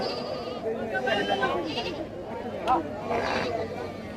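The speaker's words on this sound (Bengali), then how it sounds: "বন্ধুরা দেখতে পাচ্ছেন হাট কিন্তু ছাগল দিয়ে ভরে যাচ্ছে" Goats bleat repeatedly amid a busy crowd at the Kalampur goat market, several overlapping calls rising over murmured chatter and talking nearby.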